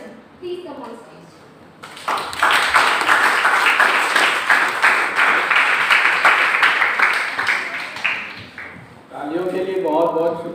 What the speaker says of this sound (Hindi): तालियों के लिए बहुत बहुत शुक्रिया।